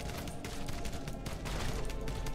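Rapid, overlapping gunfire crackles in the Pixel Privateers video game, fairly quiet bursts of automatic shooting repeating irregularly over a dense, busy background.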